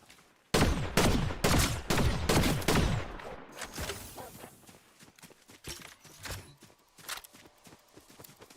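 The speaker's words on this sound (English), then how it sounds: "Who's shooting me" A rapid burst of gunfire in the video game Fortnite: loud, closely spaced shots crack for about three seconds, then thin out into scattered quieter pops and clatter.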